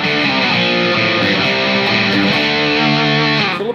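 Electric guitar driven through an overdrive or compressor plays a riff, a loud, thick, sustained tone with steady chord and note changes and no talking, ending abruptly.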